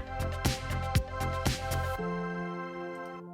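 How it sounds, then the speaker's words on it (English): Granular atmosphere pad from the Fragments plugin in a modern pop production, a sustained tonal wash under rhythmic percussive hits that drop out midway, leaving a steady held chord fading away. "which is creating this granular atmos"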